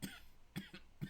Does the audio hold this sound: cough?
yes